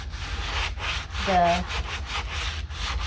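Sanding a wooden base for a toilet separator inside a van build, close and steady rasping strokes with a short squeak midway, and a single word spoken briefly over it.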